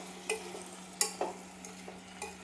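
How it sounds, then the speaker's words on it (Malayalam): Salted lemon pieces for a dates and lemon pickle are stirred in a pan, giving a few soft, scattered scrapes and clicks over a low, quiet background. "ഈ നാരങ്ങ കഷ്ണങ്ങൾ ഒരു 3 മിനിറ്റ് നന്നായിട്ട് ഇളക്കി കൊടുക്കാം."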